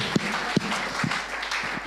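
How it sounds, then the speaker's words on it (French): A church congregation gives a clap offering, steady applause filling the room with a few sharper claps standing out. "with a clap offering, let's just thank the Lord for 50"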